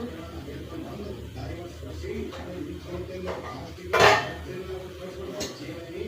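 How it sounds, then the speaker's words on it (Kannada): A spoon and napkin being packed into a bag in a home kitchen, giving one brief metallic clink against steady background noise while someone talks. "ಬ್ಯಾಗಿಗೆ ನ್ಯಾಪ್ಕಿನ್ನು ಮತ್ತು ಸ್ಪೂನ್ ಎಲ್ಲ ಹಾಕೋಣ"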